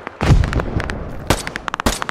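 Gunfire in the video game Risala PMC, a loud burst of shots followed by rapid sharp reports close by, with echoing booms and quick staccato cracks.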